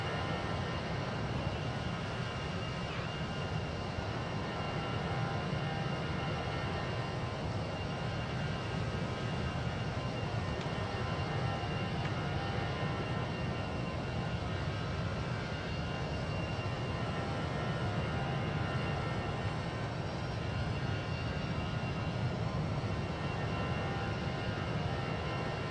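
A steady, broadband roar fills the cabin of an Airbus A319 in the X-Plane 11 simulator, engine drone and airflow hum running unbroken for nearly half a minute at moderate level, with no talking.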